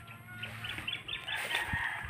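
Chickens cluck and murmur in a steady stream of short calls at moderate distance, with a low background hum underneath and one brief thud partway through.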